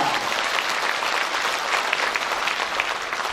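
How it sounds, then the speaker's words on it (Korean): A crowd of residents at a district town-hall meeting with the Incheon mayor gives warm, dense applause, steady and fairly loud throughout. "우리 모두를 환영하는 뜨거운 박수를 부탁드립니다"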